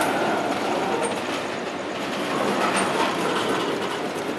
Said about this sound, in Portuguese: É um trem curto, porém bem pesado